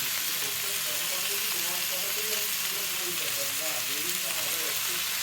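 Tandoori chicken brushed with butter roasting in the oven, giving off a steady, dense sizzle and frying hiss with faint crackles throughout, close and continuous with no speech.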